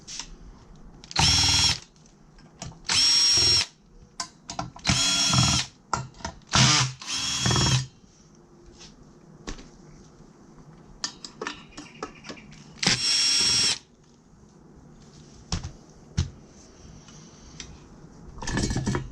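Power drill running in repeated short bursts to back out the screws holding a remote radio unit, several whirring spurts spaced across the span with quieter clicks and handling noise between them.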